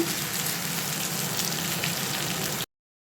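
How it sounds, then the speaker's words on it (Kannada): Rani fish fries on a hot tawa, giving an even, close crackling sizzle that cuts off abruptly. "ಈ ಫಿಶ್ನು ಚೆನ್ನಾಗೆ ತವಾ ಫ್ರೈ ಆಗಿದೆ"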